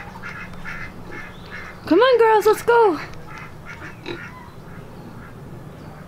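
Ducks quacking in a flooded front yard after a hailstorm, a short burst of loud nearby quacks, with a woman calling to them over light background noise.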